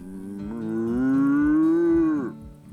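A person imitates a cow with one long, drawn-out moo, rising and holding steady before trailing off, close and clear.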